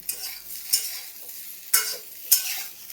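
Vegetables for a fish curry get stirred in a hot pan, with three sharp scrapes of a utensil over a low background sizzle and no voices.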